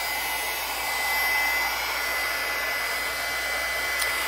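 Hair dryer blowing on a mixed media junk journal page, a continuous airy whoosh with a thin whine riding above it, close and steady throughout, with nothing else heard.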